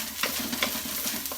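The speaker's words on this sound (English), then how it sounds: "You see it starts sizzling in the bottom of the pan" Vegan mince fries in oil in a wok with a steady close sizzle. Soft scraping stir strokes come at a regular rhythm, and there is no talking.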